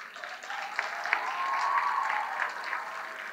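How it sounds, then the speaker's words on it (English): Graduating engineering students stand and applaud their parents, a sustained crowd of clapping that builds slightly and holds steady, with faint voices underneath. "give the roundest applause for your parents"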